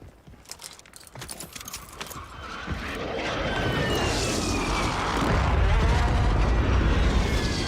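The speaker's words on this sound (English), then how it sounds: "Friendly precision airstrike inbound." Precision airstrike explosions in Warzone 3: scattered sharp cracks give way to a swelling, sustained roar of blasts and rumbling debris that grows louder and fills the rest of the scene.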